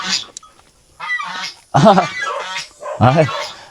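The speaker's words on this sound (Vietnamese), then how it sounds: "Ở đây thì ông bà còn nuôi cho mình những chú ngỗng nha quý vị. Đây, những con ngỗng này." Geese honking on a mountain farm in Vietnam, several loud nasal calls in bursts close by, with a person talking in between.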